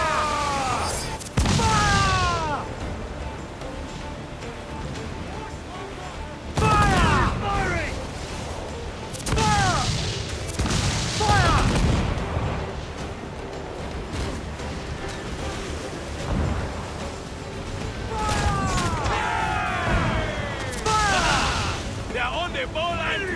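Ship cannons in Assassin's Creed 4 Black Flag fire in repeated heavy booms spread over the stretch, some in quick volleys, with a dense battle din between blasts and shouting voices over it.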